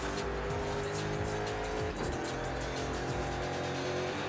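A Nissan Tsuru accelerating in the racing game Forza Horizon 5, a steady loud engine drone pulling in fourth gear with rising revs and faint tire noise, continuous and close throughout.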